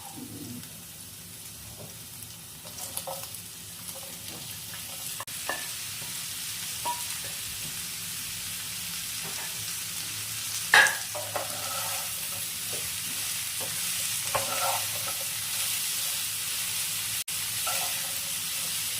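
Ash gourd and potato cubes being stirred and sautéed with spices in a pan, a soft steady sizzle with faint scraping stirs throughout, a few sharper clinks, and birds calling faintly in the background.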